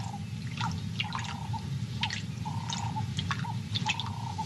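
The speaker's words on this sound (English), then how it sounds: "arrives at the water and takes a long, cool drink to wash down another huge meal" A lioness drinks at a pool during a time of plenty, her tongue making soft, repeated lapping and dripping splashes in an irregular rhythm, close up, over a steady low background rumble.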